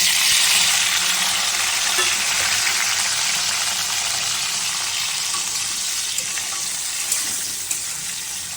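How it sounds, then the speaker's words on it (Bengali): Green chillies and tomato frying in hot oil in a pan, giving a steady loud hiss and sizzle that eases slightly over several seconds, with no voices. "তেলের ভেতরে কাঁচা লঙ্কা টমেটোটা দিয়ে দেবো"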